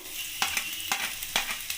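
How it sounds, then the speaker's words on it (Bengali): Chopped ginger and garlic frying in a wok, a steady close sizzle with a few sharp scraping stirs spaced about half a second apart. "এখানে আমি আদা আর রসুন কুচি যে রেখেছিলাম সেটা আমি কড়াইতে দিয়ে দেবো।"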